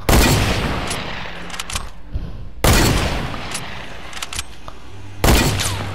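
Heavy gunfire bursts in Fortnite, three loud blasts spaced a few seconds apart with sustained rumbling tails and scattered smaller shots between them, no talking.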